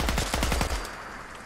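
Rapid burst of about eight close, loud gunshots from the video game Survival in the Commonwealth, fired in quick succession before dying away into a low rumble.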